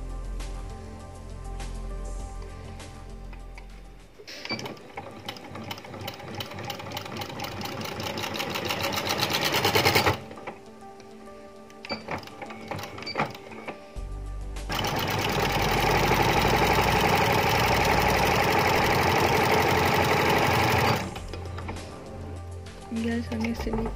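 A sewing machine stitches a fancy dress sleeve in two long, steady runs of several seconds each, separated by quieter gaps of fabric handling.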